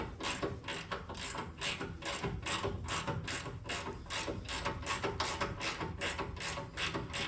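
A hand ratchet works loose the sway bar bolts on a Ford Raptor, a close, rapid series of clicking pawl strokes in an even back-and-forth rhythm.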